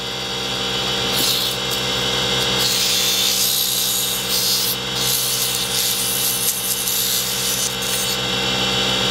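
A cast Alumilite stopper spins on a lathe while being sanded at 80 grit, giving a continuous loud abrasive hiss and rubbing whir that swells slightly in places, with no voices.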